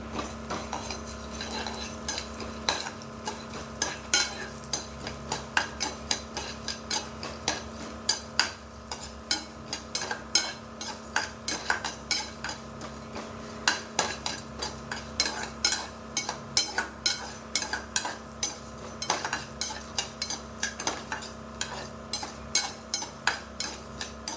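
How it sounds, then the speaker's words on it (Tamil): Chana dal, urad dal and dried chillies roasting in a pan with a single spoon of oil, a spoon scraping and stirring in a steady, uneven rhythm of close metallic clinks and scuffs, with a faint sizzle beneath. "கூட்டுக்கு வறுத்துக்கலாம்."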